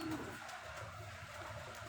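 Pigeons coo in low, soft repeated murmurs throughout, close and steady, with no one speaking.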